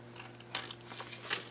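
Scissors snip paper for a small 6x6 mini album, a few quick, quiet crisp cuts close up in a still room, with no talking.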